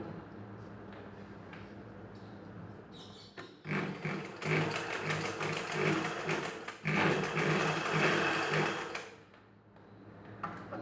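A sewing machine stitches a folded hook belt onto a back-open blouse, running in two long steady bursts of close, loud mechanical whirring with a short pause between and quiet moments before and after.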